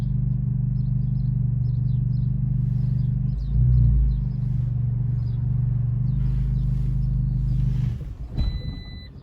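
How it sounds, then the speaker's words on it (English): A learner driver's car idles with a steady low engine drone, then the engine stalls while moving off, dropping out with a brief shudder before a short beep sounds near the end. "he's stalled here because he hasn't used enough petrol"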